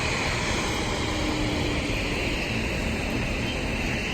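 Airplane roaring overhead beside a warm, sunny outdoor swimming pool, a steady loud broadband jet rush that holds at constant strength throughout with no voices.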